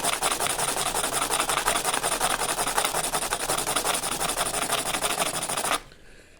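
Steady, harsh rasping of coarse 60-grit sandpaper scraping back and forth in a fast, even rhythm, close and loud, stopping abruptly near the end.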